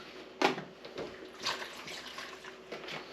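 Water is poured quietly into a bowl of apple pie filling in an off-grid kitchen, with a few soft splashes and trickles close by.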